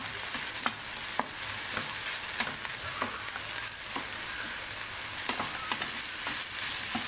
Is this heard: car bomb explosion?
no